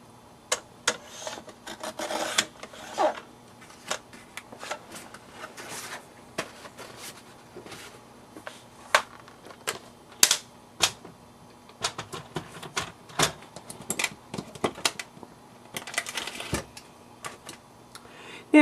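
Scissors trim a paper butterfly image, leaving a small border, in a quiet room: many short, crisp snips and rasps of cutting paper come in uneven bursts over a faint steady hum, with no talking.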